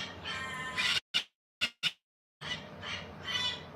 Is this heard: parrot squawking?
yes